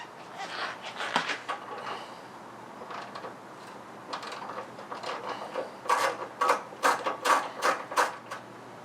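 A ratchet with a deep socket loosens bolts on a 2-door Jeep JL Rubicon, giving a series of quick clicking bursts that grow denser and louder toward the end, close up with no talking.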